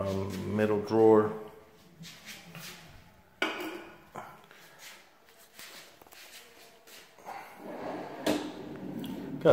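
A custom wooden cabinet drawer slides open and shut, giving a few close, sharp rolling thumps and knocks separated by quieter gaps, with voices nearby.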